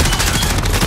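Rapid gunfire from the M2K Carbide in a video game, a dense continuous burst of automatic shots filling the whole second at close range with no talking.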